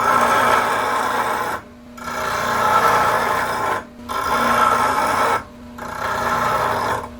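A tool edge held in a Wolverine jig pocket against a spinning sharpener, giving a bright rasping grind in three long passes separated by brief quiet pauses.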